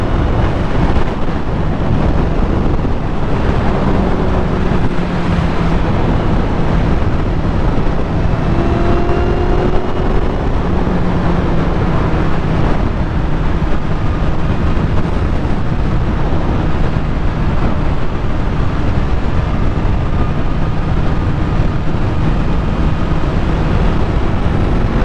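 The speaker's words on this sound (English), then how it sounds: "just keep giving it a bit of revs, easing off" A new motorcycle being ridden during its run-in period, the engine note rising and easing under steady roaring wind noise, with faint tonal revs fading in and out at moderate volume and no voices.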